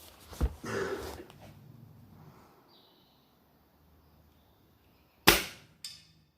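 A Gamo Swarm .22 pellet gun fires shots toward targets at range: one sharp crack near the start, then after a quiet stretch another crack followed by a quicker second snap, each with a brief tail.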